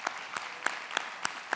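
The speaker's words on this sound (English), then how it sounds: "So let's give them a round of applause." An audience at an airport business diversity conference claps, heard as a handful of sharp, spaced claps over about a second and a half, fairly faint and somewhat distant, with no talk.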